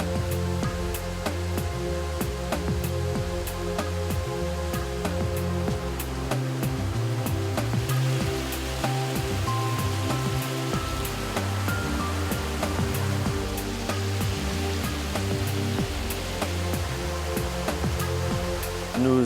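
Clear treated water spills steadily over the edge of a settling basin at a sewage treatment plant, a constant, close rushing wash of falling water that holds at an even level throughout, with no voices.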